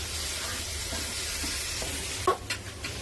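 Sliced onion and green chillies frying in a pan, a steady soft sizzle with a few sharper clatters of stirring near the end, no one talking.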